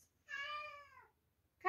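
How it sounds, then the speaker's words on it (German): A cat gives one clear, drawn-out meow close by in a quiet room, followed after a short pause by the start of a second meow. "Katze!"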